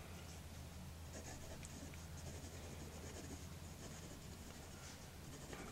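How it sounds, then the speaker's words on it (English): A Brunnen Colourcode fountain pen moves quickly across paper in fast writing, producing a faint, continuous soft scratching with brief strokes over a low background rumble, close to the microphone and without speech. "Let's try some fast writing."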